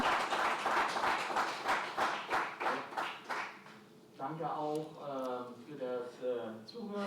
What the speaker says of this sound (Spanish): Yo creo que se han merecido un gran aplauso.